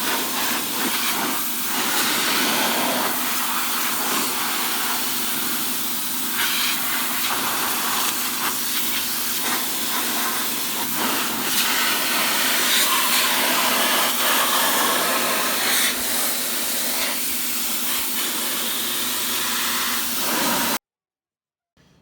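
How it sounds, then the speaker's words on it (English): A pressure washer sprays an outdoor HVAC unit to clean off dirt, a loud continuous hissing rush of water with slight shifts in tone as the spray moves, stopping abruptly at the end. "next thing you guys are going to want to do is pressure wash this unit here"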